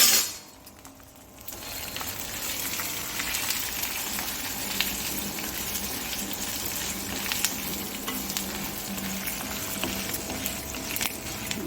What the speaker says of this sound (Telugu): ధనియాలు, వెల్లుల్లి, ఎండుమిర్చి వేసాను కదా, ఇవి కొద్దిగా వేగాక గోంగూర వేస్తానండి.